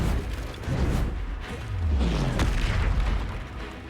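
Booming blasts of the Confringo fire spell in the game Hogwarts Legacy, a deep rumbling explosion with a sharper burst near the end, loud and close over a low background.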